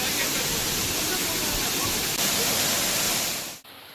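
Broad, steady roar of heavy water at Megamalai falls after a sudden rise in flow, continuous and loud until it cuts off abruptly near the end.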